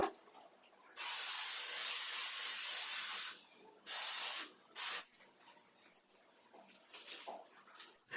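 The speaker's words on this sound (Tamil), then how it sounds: "நம்ம இந்த ஸ்ப்ரே வச்சு டைரக்டா வால்ல அப்ளை பண்ணுவோம்." Long hissing blasts of an acoustic foam adhesive spray applied directly onto a wall, one sustained burst followed by two shorter ones, loud and near, with faint rustling between.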